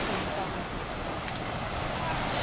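Stormy sea surf rolling onto Flamingo beach, a dense continuous roar of waves that stays loud and unbroken for the whole stretch.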